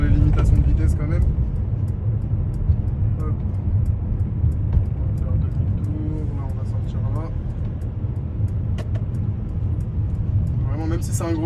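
A Mercedes V-Class 300d Exclusive diesel van accelerating to about 45–50 km/h, with low engine and road rumble heard from inside the cabin beneath someone speaking French throughout.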